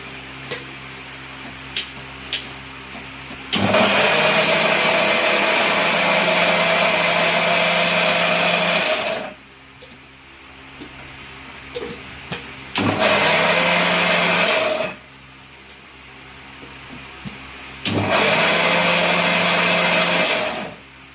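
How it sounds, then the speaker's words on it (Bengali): An electric mixer grinder grinds spices for chicken curry in three loud, whirring bursts of several seconds each, separated by short pauses with small clicks and clatter from the jar, close by and with no voices. "এখনকার দিনে মিক্সি হয়ে কত সুবিধা হয়েছে বলো, মানুষের কত তাড়াতাড়ি মশলা বাড়া হয়ে যায়"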